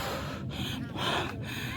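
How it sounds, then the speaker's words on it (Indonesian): A person walking uphill pants heavily out of breath, with three loud, rough gasping inhales and exhales close to the microphone and no other sounds. "Ngos-ngosan."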